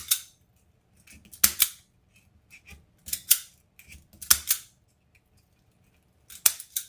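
Scissors snip through ties on a feather Halloween wreath built on an oval board: several crisp, close cuts come in short bursts, often paired, with quiet gaps between them and no talking.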